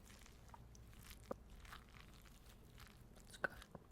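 Close, quiet crunching and chewing of a crunchy Trader Joe's snack, soft mouth sounds with a couple of sharper crunch clicks, heard alone.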